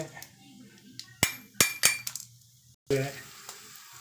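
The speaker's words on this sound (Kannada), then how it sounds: "ಬೇಳೆ ಕೆಂಪ ಆಗೋದು ಉರ್ಕೊಳಿ" Lentils being roasted in a pan while making sambar powder: sharp clinks and scraping of a spoon against the pan with a low sizzle beneath, irregular and close, with a voice talking over parts of it.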